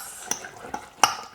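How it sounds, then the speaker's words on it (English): A spoon stirs spiced sultana and apple oat muffin batter in a bowl, making three distinct clinks against the side amid soft scraping, fairly close and with no one talking. "then mix it all together"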